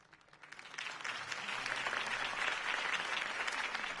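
Video game crowd breaks into sustained applause after a political campaign speech, clapping swelling quickly from a quiet start and holding steady and dense throughout.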